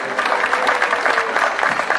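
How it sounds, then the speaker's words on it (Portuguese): Crowd applause at a 7 de Setembro Independence Day parade in Itamaraju, Brazil, honoring an ambulance team; steady dense clapping rolls continuously at moderate loudness, with faint voices mixed in. "Vamos aplaudir mais uma vez a presença."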